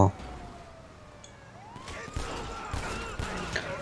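A police siren wails with rising and falling pitch through a noisy GTA 5 Online game scene, joined by thuds and bursts of louder activity in the second half.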